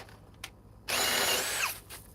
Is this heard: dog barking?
no